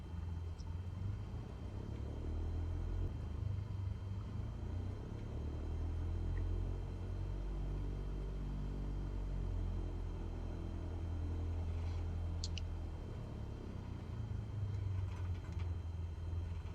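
An aircraft engine drones steadily in a flight simulator game while taxiing, a low continuous rumble with a faint higher hum and a few small clicks, no talking.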